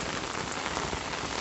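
Heavy rain pours down in a steady, dense hiss close by, loud and unbroken throughout, with no voices.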